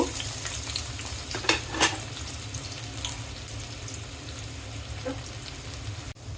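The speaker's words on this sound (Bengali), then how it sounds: "তেল গরম হয়ে গিয়েছে, পেঁয়াজ কুচি দিয়ে দিব।" Chopped onions hitting hot oil in a pan, a continuous sizzle with a few sharp bursts early on and a clunk near the end, heard alone without speech.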